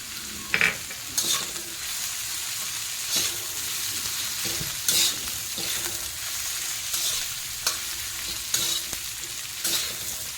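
Peanuts fry in hot oil with green chillies for a spicy chilli side dish, giving a steady sizzle broken by regular scraping stirs about once a second, with no talking.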